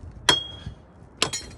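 Two sharp metallic clinks spaced about a second apart, like a hammer striking metal while working on a truck, close and bright against a quiet background with no talking.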